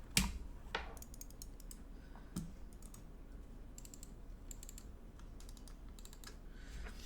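An HK Gaming Mira-S mouse gives a scattered series of faint, sharp button clicks with a few louder taps in a quiet room, and nobody speaks.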